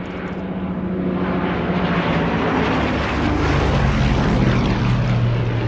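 Gloster Gladiator propeller biplane engine running: a loud, sustained droning roar with a rough, throbbing texture that holds steady and swells slightly toward the end, close and alone without talk.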